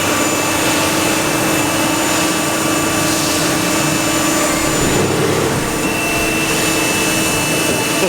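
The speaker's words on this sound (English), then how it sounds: "This machine's actually doing two things at once." CNC lathe turning bicycle pedal parts in a factory: a steady, loud, continuous machine whine with tonal hum and broadband hiss, unchanging throughout, no voices.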